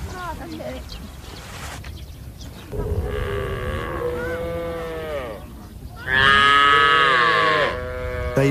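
Cattle of the Wodaabe herders, nomadic pastoralists, lowing with long drawn harmonic moos, two extended calls rising louder near the middle and end, over a background of voices and outdoor bustle.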